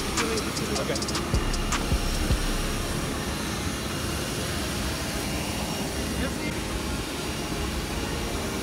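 Steady broadband roar of an airplane jet engine heard from inside a plane cabin at night, constant and fairly loud throughout with faint clicks and thumps over it.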